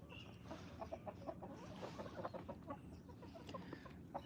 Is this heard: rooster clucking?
yes